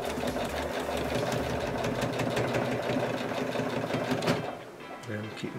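A sewing machine stitches fabric pieces along a basted seam, its rapid needle chatter and motor hum loud and close for several seconds, then stopping abruptly near the end as the room falls quieter.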